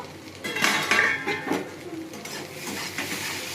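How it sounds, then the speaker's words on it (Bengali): Metal clatter as a lid comes off a pan of frying okra, a few close clanks and scrapes followed by softer settling kitchen noise, without talk. "এবার আমি ঢাকাটা খুলবো।"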